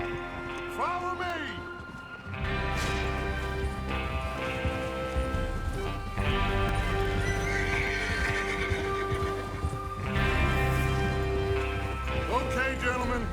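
Horses whinny close by in the video game Red Dead Redemption 2, followed by rhythmic hoofbeats and clip-clop under a steady patter of rain, with a voice talking over it.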